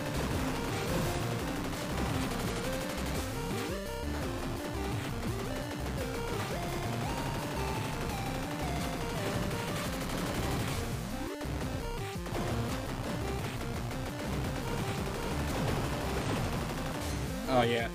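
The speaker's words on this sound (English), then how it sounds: "Security turret!" A security turret fires in the video game Dogworld 2, with bursts of rapid gunfire and crashes amid a dense, busy game soundtrack.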